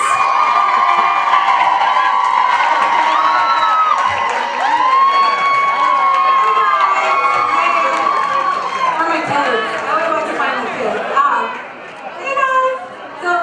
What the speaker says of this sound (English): Big round of applause for Salwa Owens.